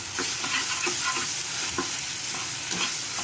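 Spice masala for aloo phulkopir dum fries in a pan until the oil separates. A loud, continuous sizzle runs throughout, broken by regular sharp scrapes of a spatula being stirred through the paste.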